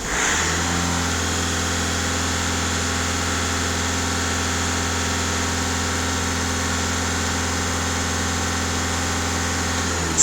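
A Golf 1.6 TDI diesel, CAYC engine, runs steadily at raised revs, a loud continuous mechanical drone with a strong low hum and a constant high whine, with no talking.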